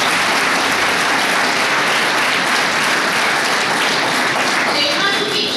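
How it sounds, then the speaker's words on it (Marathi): Dense, steady applause fills the room at a youth workshop on saving the girl child, loud and close, continuing throughout without a break. "एक पण टाळी दे."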